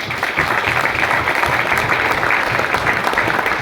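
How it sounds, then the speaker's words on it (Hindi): A crowd applauding loudly and steadily, dense clapping that fills the whole stretch without pause. "क्या बात है, जोरदार ताली।"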